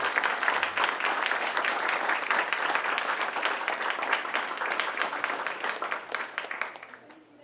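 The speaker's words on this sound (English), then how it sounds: "I would like you guys to put your hands together for Isabel Ferreira" An audience claps steadily for a Student of the Month honoree, a dense, loud round of applause that holds for several seconds before tapering off at the end.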